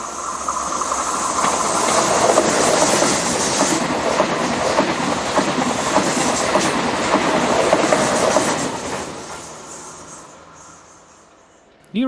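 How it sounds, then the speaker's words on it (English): A TGV Réseau high-speed train passes on the rails, loud and near, with rushing wheel noise and clatter over about eight seconds before fading away quickly. "TGV Réseau set number 72 is operating this service to Paris."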